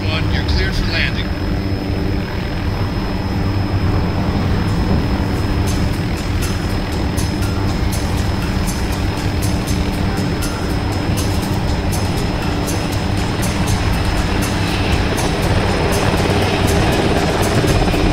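A Little Bird helicopter in Arma II lands at base, its rotor and engine drone loud, close and continuous throughout, with radio-style voices talking over it.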